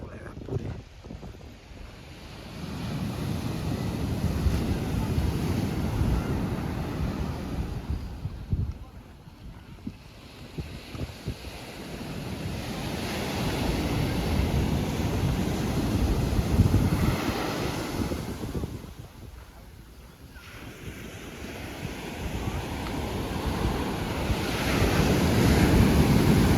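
Ocean waves breaking on the shore at Puri beach in Odisha, a roaring surf that swells and recedes in long surges, heavily mixed with gusty wind buffeting the microphone.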